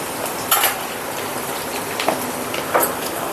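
Sliced onions with turmeric fry in a pan with a steady, hissing sizzle, broken by a few brief scrapes or clinks of a spoon against the pan; close and constant, no talking.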